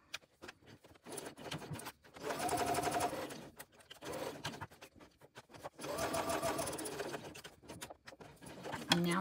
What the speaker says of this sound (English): And now I'm just going to sew down this open side of the decorative connector strap.